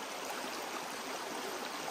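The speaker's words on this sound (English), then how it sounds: "We'll tip it to one side. Let all that material get rid of that water." Water drains off a tipped gold sluice mat outdoors, a steady, close, broadband rushing like a small stream. It runs continuously and evenly, with no voices.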